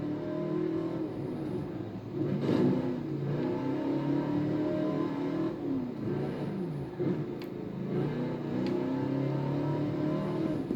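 A supercharged Mad Max Pursuit Special, an XB GT Hardtop with a top-loader gearbox, growls steadily in a video game, its engine droning and revving loudly throughout with rising and falling surges.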